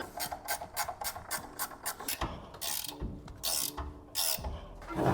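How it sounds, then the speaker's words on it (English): A ratchet tightens brake caliper bracket bolts on a 1968 Mustang fitted with 95-04 Cobra disc brakes, giving rapid close metallic clicking in repeated bursts, broken by short pauses and a few sharper clanks. "these bolts are torqued to 70 foot-pounds"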